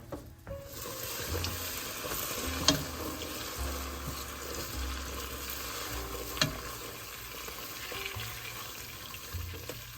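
Butter melts and sizzles in a pan while being browned for vintage Christmas candy, giving a steady close frying hiss with a few sharper ticks and pops and no voices.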